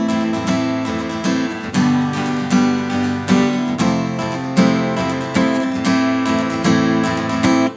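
An acoustic guitar strummed with a thin 0.4–0.5 mm Jim Dunlop pick plays a steady, bright rhythmic chord pattern, with even strokes ringing close and alone for the whole stretch.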